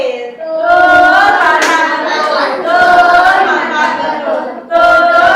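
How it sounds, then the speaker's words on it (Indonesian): A fourth-grade classroom gives a round of applause, steady clapping running the whole time beneath loud children's voices chanting or cheering together. "boleh kasih tepuk tangan buat lomba ini"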